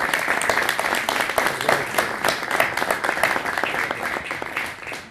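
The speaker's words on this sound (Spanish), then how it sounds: "agradecerle con un aplauso" Audience applause at a Spanish-language panel debate on the audiovisual industry, a dense steady patter of many hands clapping close by, sustained for several seconds and fading slightly at the end.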